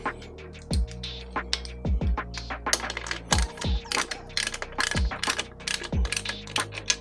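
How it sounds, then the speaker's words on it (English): A bolt is tightened on a Kemi Moto handguard mounted on a Harley-Davidson Touring motorcycle, producing a fast run of close, loud metallic ratcheting clicks with sharp taps in an irregular rhythm. "Tighten it down a little bit."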